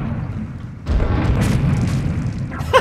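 A rocket explodes for a rocket jump in Serious Sam HD: The Second Encounter, a single loud, close boom about a second in that trails into a sustained rumbling roar.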